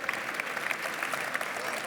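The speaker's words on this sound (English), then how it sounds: "So Lucie, can we have a big thank you, round of applause for Lucie?" A crowd claps in dense, sustained applause, many hands together at a steady level for the whole short stretch.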